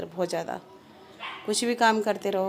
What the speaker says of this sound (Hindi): देखिए कुत्ते कितने भौंक रहे हैं बाहर